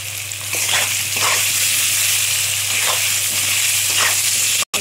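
Tomato fries in oil for a cauliflower, bori and bhetki fish curry, producing a loud, dense, continuous sizzle with a few soft stirring swishes, up close and uninterrupted by speech.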